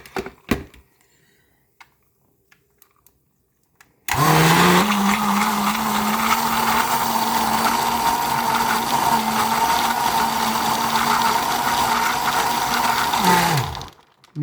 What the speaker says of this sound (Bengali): কার্বনেটেড ওয়াটার ঢালার পরে আমি এটাকে মিক্সারে দিয়ে ভালো করে মিক্স করে নিব